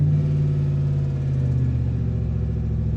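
A 2014 Chevrolet Silverado engine gets a quick throttle tap, giving a close steady mid-pitched hum that swells briefly and then settles.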